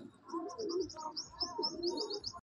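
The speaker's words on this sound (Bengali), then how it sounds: "এটা হচ্ছে স্টারলাইনের মাদি পায়রা আছে" Pigeons in a Madrasi pigeon loft coo in soft, rolling phrases, and higher chirps repeat over them before the sound cuts off abruptly.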